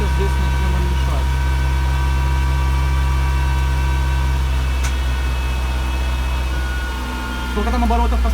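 A Mercedes W201 190E's M102 engine, fitted with E-Jetronic fuel injection, runs at a raised speed of around 1500 to 1700 rpm, giving a steady, close, droning hum with little change throughout.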